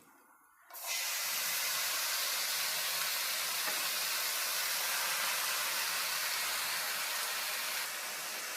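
Washed, wet drumstick leaves hit a hot frying pan on a stove, and a loud, steady hiss of steam and sizzle starts after a short quiet moment. The hiss stays even for several seconds.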